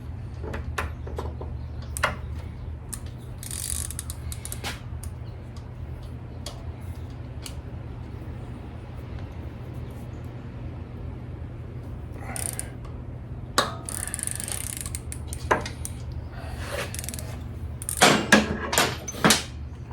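A hand wrench ratchets on the rocker box bolts of a 2009 Harley-Davidson Electra Glide. Sparse clicks and ticks are scattered through a quiet garage, with a denser cluster of ratcheting clicks near the end.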